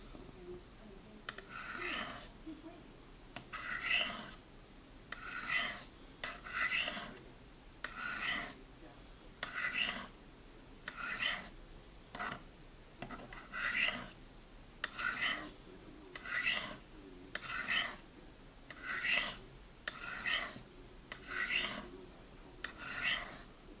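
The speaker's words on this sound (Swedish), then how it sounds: "Jag byter lite stenar så ska jag köra den här mjuka sidan lite snabbt bara för att polera upp den här sista ytan" A knife blade polished on the fine stone of a Spyderco Sharpmaker, giving a steady series of about fifteen soft, rhythmic scraping strokes, close and quiet, with faint talk under them.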